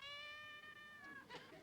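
A cat meows once in a long, drawn-out tone from behind a wall, followed by faint shuffling noises.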